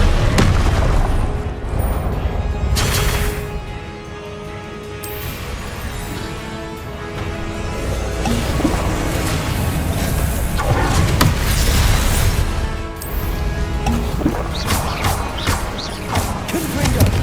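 Rapid, loud blasting-spell explosions and crashing impacts from Hogwarts Legacy combat, booming one after another in a dense, continuous barrage with no pause.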